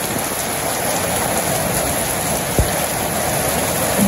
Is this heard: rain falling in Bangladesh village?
yes